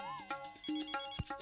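A cartoon telephone rings in quick repeated electronic trills, bright and close, with tonal chirps between the pulses and no talking.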